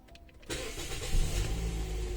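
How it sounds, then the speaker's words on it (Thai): The engine of a 2012 Toyota Vios turns over with a sharp crank, catches and settles into a steady low idle, heard close, with no talking. "เดี๋ยวสตาร์ทรถนะครับ"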